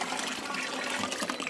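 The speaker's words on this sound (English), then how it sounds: "So what I'm going to do is add about another gallon of water into this." Water pours steadily into a vermicomposting bag of coconut coir bedding, a continuous soft gushing splash heard alone at moderate level.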